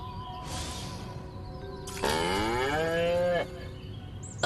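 A cow moos loudly in the Destroy All Humans! video game, one long drawn-out bellow that rises and then falls, heard on its own with no talking over it.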